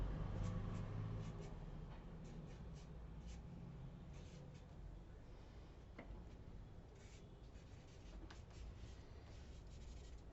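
Pencil scratches across paper as a caricature character is sketched, quiet close-up strokes in short scattered bursts over faint background hiss.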